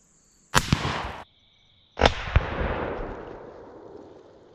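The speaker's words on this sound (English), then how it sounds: "Let's shoot it with the 6-dasher." Two loud, sharp gunshots from a 6mm Dasher rifle crack outdoors a second or so apart, each followed by a long rolling echo that fades out slowly.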